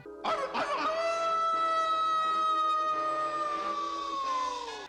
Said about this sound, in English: And the howl he gave was pretty chilling.